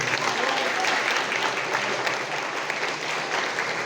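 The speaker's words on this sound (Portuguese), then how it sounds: "Aplauda o Senhor, aplauda o Senhor, aplauda o Senhor." A church congregation claps loudly and continuously in dense, even applause that fills the whole stretch. Faint voices may sit under the clapping.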